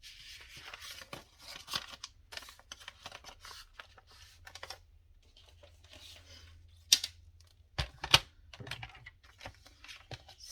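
Scissors cutting paper for handmade journal pages, quiet, close snips and rustles in irregular bursts, with two sharper louder cuts near the end.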